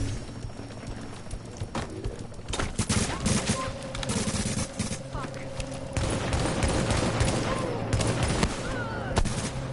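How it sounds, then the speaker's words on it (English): Explosive-round gunfire in a PS4 shooter: dense bursts of rapid shots and sharp blasts, fairly loud and sustained, over a constant rumbling game background that grows busier toward the end. "it's got bullets that blow up after they hit their target"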